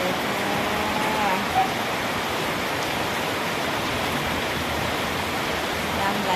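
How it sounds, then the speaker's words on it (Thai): Rainwater flows along a road during a rainstorm in Thailand. The steady, broad rushing and splashing wash holds an even level throughout, with no clear breaks. "นี่น้ำไหลตามถนนแล้วไหลไปเลยค่ะไหลไปเลยค่ะ"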